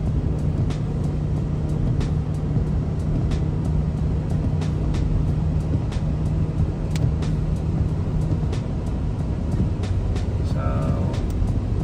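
A Land Rover diesel on the motorway near 70 mph, with a steady loud rumble of engine and road noise filling the cabin throughout and periodic faint ticks.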